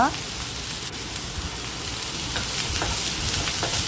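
Salted cubes of snake gourd stirred in a pan, a steady soft sizzle with scraping stirs throughout, close and fairly quiet, with no talking.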